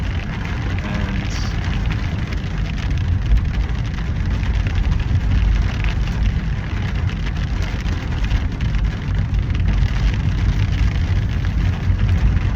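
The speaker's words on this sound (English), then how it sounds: "So yes, it's really raining. It's really coming down now." Heavy rain pours down in a dense, continuous broadband hiss with a low rumbling undertone, loud and steady throughout.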